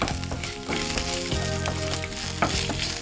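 Ginger and spices sizzle steadily in a hot pan while being stirred, with a dense continuous frying hiss, scraping strokes and occasional clinks close by, no voices.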